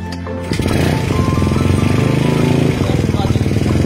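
A Yamaha Mio Sporty scooter with a starting fault is kicked over, its small engine chugging loudly and steadily up close after a brief quiet start, with a rhythmic mechanical pulse throughout.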